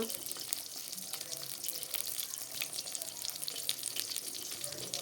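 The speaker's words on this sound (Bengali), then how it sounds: "এখানে বেগুন ভাজা বসিয়ে দিলাম রুটির জন্য" Eggplant slices frying in oil in a pan, a steady crackling sizzle throughout, moderately quiet and close with faint kitchen noise behind.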